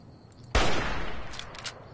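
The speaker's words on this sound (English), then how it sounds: "I'm gonna shoot some Mr. Gutsies." Gunfire from the Fallout New Vegas video game as the player shoots at Mr. Gutsy robots: a sudden loud burst of shots that decays into a rumbling tail, with faint metallic clinks after it.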